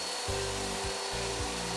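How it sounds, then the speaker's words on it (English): Steady rubbing and scraping of sandpaper over wood strips, a few rhythmic back-and-forth strokes, close and moderately loud with a low hum underneath. "Give them a quick sanding to take off the splinters."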